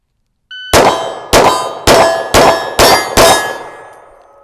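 Six gunshots strike steel targets in quick succession at an outdoor shooting range, each a loud, ringing metallic clang that decays briefly before the next.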